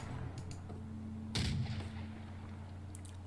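The Megaton cannon fires once in TerraTech, a single heavy, booming blast with a short rumbling tail over a low, steady engine hum, with no talk.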